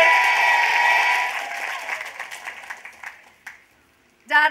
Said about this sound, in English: Can we have a big cheer for my dad